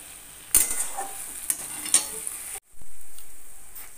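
Kochur loti (taro stolons) sizzle in a pan over a low flame while a spoon stirs them in a few scraping sweeps, close and alone, before the frying settles into a steady hiss.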